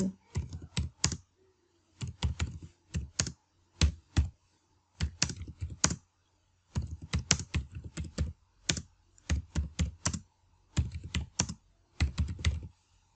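Typing a sentence on a computer keyboard while working in PowerPoint: close, steady bursts of rapid key clicks separated by short pauses, with no voices.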